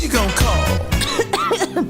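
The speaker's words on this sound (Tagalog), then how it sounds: "Ubo, premang nakabara, hirap sa paghinga." Coughing in a TV medicine advertisement for a cough capsule: several short, harsh bursts close up, then throat-clearing sounds, with no speech.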